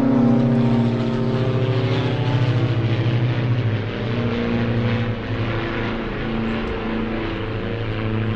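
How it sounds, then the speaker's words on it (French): Loud, steady droning of a propeller airplane engine as it takes off at Saint-Jean-Cap-Ferrat, a constant buzzing hum that holds nearly unchanged throughout. "Alors regardez, il y a un avion juste en face qui décolle."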